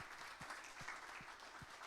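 A church congregation clapping together in a steady rhythmic beat, roughly two claps a second, faint and distant under a soft wash of crowd noise.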